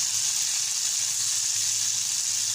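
Chicken pieces and kangkong (water spinach) sizzle steadily in a hot frying pan, a close, continuous hiss of frying oil with no pauses.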